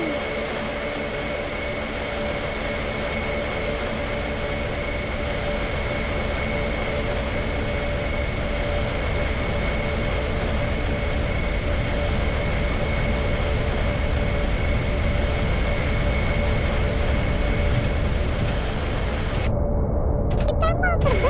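An airplane engine drones steadily during takeoff in a flight video game, a loud continuous hum with a constant tonal whine that holds for the whole stretch before briefly dropping out near the end.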